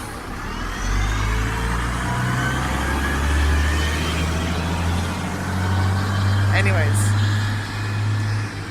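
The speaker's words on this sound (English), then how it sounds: "Oh, that's a bus over there." Bus driving past on a street, a loud low engine rumble swelling and fading as it goes by, with a person talking over it.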